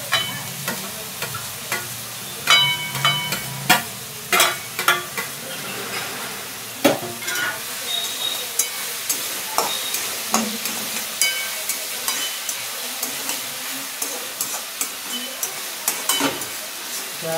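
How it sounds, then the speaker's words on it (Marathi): Onion and tomato fry in a hot pan for an egg curry, a steady sizzle broken by frequent scraping knocks of a spoon stirring, close and fairly loud throughout with no talking. "गॅस फास्ट ठेवायचे जेणेकरून कांदा लवकर भाजेल।"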